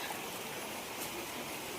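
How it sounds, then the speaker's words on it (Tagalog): Steady rain falling during a rainy-season day in a rural Philippine home, a dense, even hiss filling the whole moment without breaks, moderately loud and continuous, with no voices over it. "Umuulan kasi ngayon"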